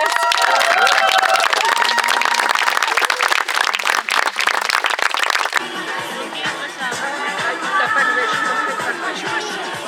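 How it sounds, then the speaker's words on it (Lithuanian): Wedding guests applauding and cheering at a celebration, a dense wash of clapping that gives way to music with a steady beat. "Pasitikite plojimai!"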